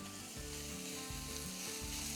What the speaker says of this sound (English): I love that sizzle sound.